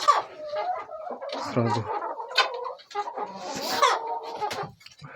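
Chickens in a coop cluck and squawk in short, irregular bursts close by, mixed with a person speaking briefly.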